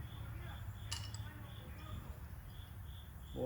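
Faint, steady insect chirping repeats in the background over low ambient rumble, with a brief clink near the start.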